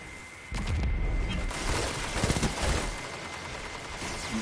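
Video game gunfire crackling in rapid bursts with some heavier booms, moderately loud and dense over a few seconds, with no speech on top.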